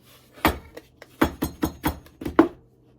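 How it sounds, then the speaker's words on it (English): A spatula scrapes homemade cheese cracker dough from a bowl in a series of short, close knocks and scrapes, about six distinct strokes with brief pauses between them, alone without talk. "I'm going to use the spatula and very gently get it out here"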